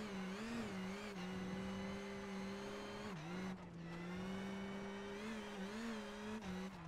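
Esa-Pekka Lappi's rally car storms through stage SS5 Livadia at the 2023 Acropolis Rally in Greece, its engine a loud, sustained howl that dips briefly with a gear change midway before pulling hard again.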